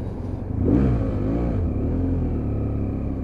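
A BMW F800 motorcycle engine hums and rumbles steadily while riding, swelling briefly as the throttle opens and then settling back to an even drone, loud and close with no voices.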